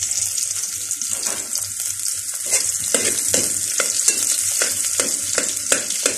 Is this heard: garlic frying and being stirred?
yes